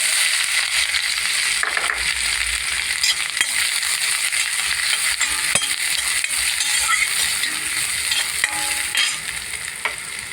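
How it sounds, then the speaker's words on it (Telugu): Onions and green chillies fry in hot oil in a kadai, giving a loud, steady, close sizzle with occasional scraping stirs and no talk. "ఆయిల్ వేడెక్కింది. ఉల్లిపాయలు వేసుకుందాం."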